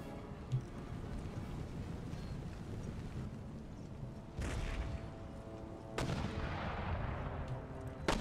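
Cannon and musket volleys boom in an Empire: Total War battle, a low rumbling backdrop broken by two sharp loud blasts partway through, heard alone without speech.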